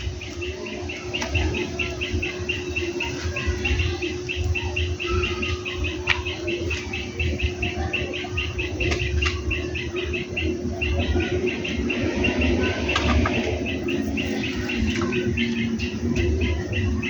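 A small bird chirps in rapid, evenly repeated calls that continue steadily over a low constant hum, close by and fairly clear.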